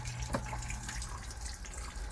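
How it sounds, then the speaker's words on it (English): Water trickles steadily as runoff from an Oscar fish aquarium during a large water change, a continuous faint splashing dribble like a running tap. "Now that's just a little bit of runoff coming from the Oscar tank, which means it's still primed."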